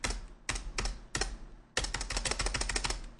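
Computer keyboard keys clacking close up, first a few separate taps, then a quick, continuous burst of rapid typing.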